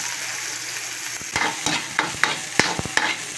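Onions frying in a pan for ginataang langka, a steady close sizzle joined midway by a series of sharp spatula knocks and scrapes as they are stirred, roughly evenly spaced, with no talking.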